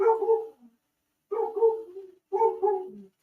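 A dog gives three close, loud bouts of barking, each trailing off into a short whimpering whine, with brief silent gaps between them.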